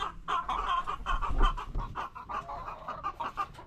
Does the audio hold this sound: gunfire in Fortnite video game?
no